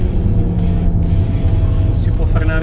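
Seat Leon Cupra 2017, a powerful front-wheel-drive hatchback, pulls hard on a race track, its engine droning loud and steady throughout as it accelerates out of a corner, with a faint rising tone near the end.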